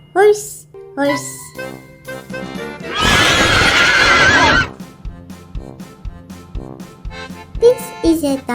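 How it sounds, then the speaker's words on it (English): A loud, broad horse whinny of about a second and a half, set within a bouncy children's song with sung lines before and after. "This is a horse,"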